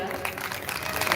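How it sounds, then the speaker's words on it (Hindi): Audience clapping at a Bhagwat Katha religious gathering, a steady wash of applause that stays fairly loud and even through the short moment, with voices mixed in underneath. "आप सभी ताली बजाएं।"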